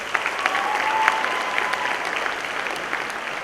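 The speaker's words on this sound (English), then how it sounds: "let's give her a big round of applause." Sustained audience applause after a debut dance performance, a steady wash of many clapping hands at moderate loudness, with a few sharper claps standing out early on.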